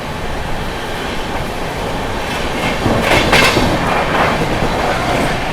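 The 20801 Islampur–New Delhi Magadh Express runs through Bharthana station without stopping. A continuous loud rumble with wheel clatter swells slightly midway, heard from on board with no voices.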